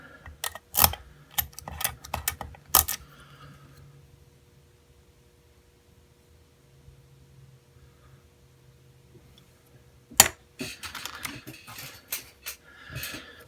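Sharp metallic clicks and scrapes from picking a BiLock lock clamped in a vise come in short bursts, then stop for a long quiet stretch before a fresh flurry of small tool taps and rattles.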